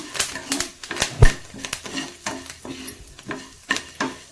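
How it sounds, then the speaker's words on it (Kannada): Spices and curry leaves fry in a pan for Udupi Brahmin-style tili saaru, heard as close sizzling broken by a quick run of sharp spoon-on-pan stirring clicks and scrapes. "ನೋಡಿ ಈ ಥರ ನಾವು ಫ್ರೈ ಮಾಡ್ಕೋಬೇಕು ಚೆನ್ನಾಗಿ."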